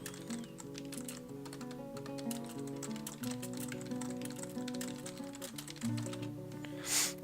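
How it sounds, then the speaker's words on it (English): Keyboard typing for a stream chat message, quick clicking keystrokes scattered through the clip beneath steady background game music, close and fairly quiet. "I'll type that in chat"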